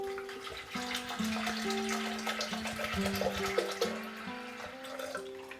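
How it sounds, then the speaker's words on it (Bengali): Water poured into a pressure cooker holding dal and rajma, a steady close splashing and gurgling stream running for several seconds over a background of music. "এর মধ্যে দিয়ে দেব বেশ কিছুটা পরিমাণে জল।"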